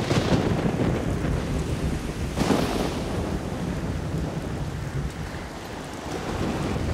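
A thunderstorm with heavy rain and crashing sea waves in the video game Risen 2 makes a loud, continuous roar, with a rolling thunder surge near the middle and no voices.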